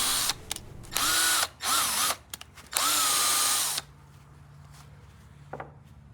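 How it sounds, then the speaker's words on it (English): Impact wrench spinning a bolt through a Scotch-Brite pad to clean it, heard as several close, loud whirring bursts of varying length that rise and fall in pitch, then quiet with a faint short buzz. "I put the bolt on the actual impact and just kind of spin it through there and get it nice and clean"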